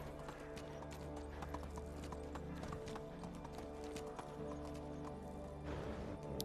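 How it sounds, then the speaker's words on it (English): Horse hooves clip-clop in rapid, even rhythm while riding in the video game Medieval Dynasty, a steady trot at moderate distance over a low droning game soundscape. "I'm using the wrong buttons to try to turn the horse."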